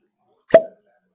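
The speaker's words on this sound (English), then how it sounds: "That was a really good cork pop." Cork pulled from a bottle of Old Grand Dad 114 bourbon, a single sharp close pop in near silence.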